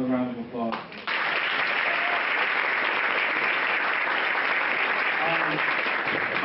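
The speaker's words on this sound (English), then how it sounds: "another round of applause?" Audience applause at a luncheon, steady dense clapping after a brief spoken request, continuing evenly with a faint voice near the end.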